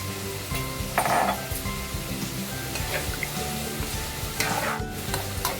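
Chicken simmering and sizzling in a pan after 200 ml of water is added, for spicy chicken in coconut cream: a steady close bubbling sizzle with occasional stirring scrapes, no talk.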